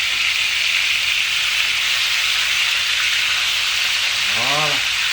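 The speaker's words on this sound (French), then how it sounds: "Alors on va venir couper la cuisson avec de l'eau froide." Steady broadband hiss of cold water poured over hot potatoes cooking in a pan, continuous and fairly loud throughout, with a brief rising tonal squeal near the end.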